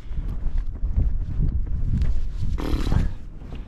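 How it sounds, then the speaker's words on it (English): Strong wind in the Lake District, a loud, gusty low rumble buffeting the microphone throughout, with a brief brighter rush of air near the end. "Just had to get out of the wind."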